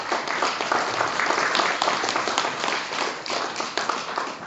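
Sustained audience applause at CIUT radio's 25th anniversary celebration, dense steady clapping from a crowd filling the whole stretch without pause.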